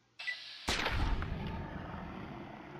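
A single gunshot rings out in Fallout 3, a brief click followed by a sharp, loud crack that decays into a rumbling tail; nobody speaks over it.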